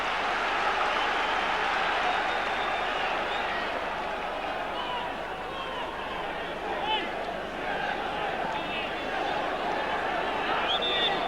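A football crowd roars steadily through an FA Cup match between Newcastle and Manchester United, a broad sustained swell with brief dips and rises, heard under faint commentary.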